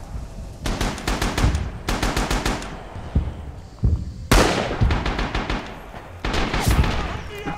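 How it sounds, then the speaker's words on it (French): Loud, close bursts of rapid automatic gunfire in the WWII shooter Rising Storm on the custom Otori Shima map, several separate volleys of sharp cracks with short pauses between them. "Qui c'est qui me tire dessus là?"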